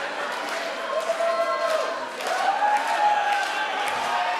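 A crowd at the CCW Summerbrawl wrestling show roars steadily as a wrestler climbs to the top rope. The noise is a sustained, fairly loud wash of cheering with swells, mixed with a commentator's voice.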